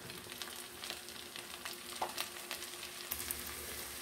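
Meat, onions and peppers fry in a pan with a close, bright sizzle and a few sharper pops and stirring scrapes over a few seconds.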